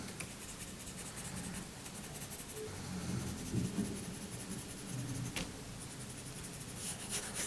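Colored pencils rub steadily across paper while a Ramadan-themed drawing is colored in, a soft, close, continuous scratching with small strokes and a few light taps, no talking.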